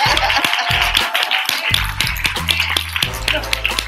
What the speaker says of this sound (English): Please give this product a round of applause.